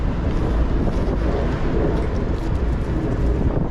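Strong wind roars steadily against the microphone while a boat cruises in high winds, a dense, constant broadband rush with low rumble and no clear pauses.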